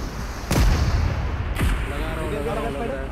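Rockets fire in the mobile shooter Battlegrounds Mobile India (BGMI), giving two sharp, booming launches about a second apart over a rumbling battle backdrop.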